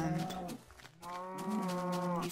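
Cows mooing in Minecraft, two long drawn-out moos, the second one louder and fuller, heard alone with no talking.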